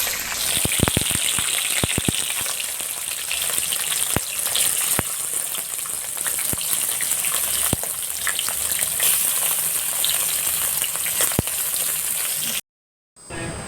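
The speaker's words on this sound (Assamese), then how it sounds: "এয়া চাওক, মই মাছখিনি এতিয়া ফ্ৰাই কৰি লওঁ।" Fish pieces marinated in turmeric fry in hot oil, a steady, loud sizzling hiss scattered with sharp pops that cuts out abruptly just before the end.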